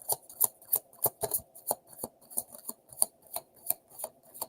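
Tarot cards are shuffled in quick irregular bursts of crisp flicking and slapping, close and fairly loud, with no voice over it.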